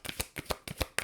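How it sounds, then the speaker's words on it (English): Oracle cards riffled in quick bursts, about six short crisp shuffles in a second, close and fairly loud with no talk. "Let me just shuffle them."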